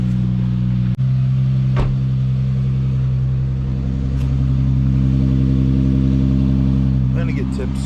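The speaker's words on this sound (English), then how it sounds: "A little cold start for you guys." A Nissan G37 with its check engine light on idles loudly and steadily after a cold start, a deep continuous engine hum close by with a couple of brief clicks, and no talking.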